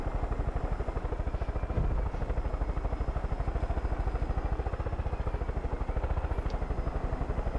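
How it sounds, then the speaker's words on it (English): A video game helicopter drones steadily with fast, even rotor chopping and an engine hum, loud and continuous throughout with no voices over it. "Apparently I'm flying a helicopter."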